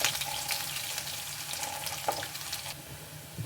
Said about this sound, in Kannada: ಬೆಳ್ಳುಳ್ಳಿ ಸ್ವಲ್ಪ ಗೋಲ್ಡನ್ ಬ್ರೌನ್ ಬರೋವರೆಗೂ ಚೆನ್ನಾಗಿ ಫ್ರೈ ಮಾಡ್ಕೊಳ್ಳಿ ಎಣ್ಣೆಯಲ್ಲಿ.